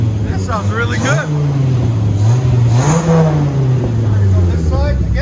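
A 1994 Dodge Viper with an 8.0L V10, 6-speed and true dual Flowmaster Flow FX exhaust revs loudly nearby, its deep burbling idle rising into two throaty swells before settling again.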